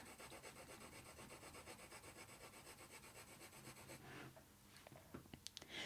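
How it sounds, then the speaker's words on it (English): A graphite pencil shades across paper in a steady back-and-forth rhythm, soft close scratchy strokes repeating evenly for about four seconds before a pause with a few faint ticks and scrapes. "just letting the weight of the pencil and me moving it across the paper create that tone"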